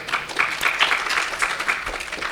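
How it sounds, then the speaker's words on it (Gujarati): Audience applause at a devotional talk, a short burst of dense clapping from many hands at moderate loudness, continuous to the end. "તાળીઓથી વધાવો"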